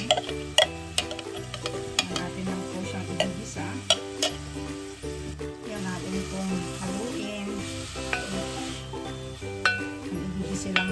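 Onion, garlic, carrots and celery sautéing in a pan, a steady close sizzle with occasional stirring clicks, under background music.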